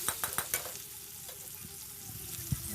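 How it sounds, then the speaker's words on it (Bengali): Onions and chopped tomatoes fry in a pan with a low sizzle, opening with a quick run of spatula taps, then a quieter simmer and one final knock. "ভালো করে ভেজে নেব"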